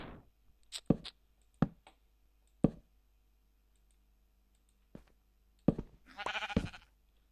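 Minecraft sheep bleats sound in short bursts, mixed with sharp game clicks spaced irregularly, and a louder cluster of noise near the end, with no talking.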